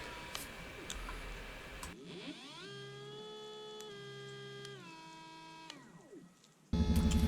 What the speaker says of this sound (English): Quick check shows the motor running at 4000 RPM